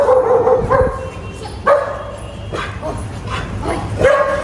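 A dog barks several times in short bursts at close range, with soft whimpers between barks and some background noise.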